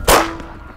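A Bushbuck 45 airgun fires at a hog during a South African hunt, giving one sharp, loud crack that quickly fades into a short outdoor tail.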